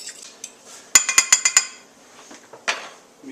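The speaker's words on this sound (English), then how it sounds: "We're just going to take a fork and quickly whisk this together." A quick run of five sharp metallic clinks of a fork whisking egg and milk in a bowl, followed by softer scattered clicks and one more clink.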